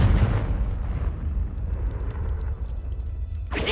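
A Confringo fire spell blast in Hogwarts Legacy, a deep booming explosion at the start that rumbles and fades, followed by a sharp burst near the end.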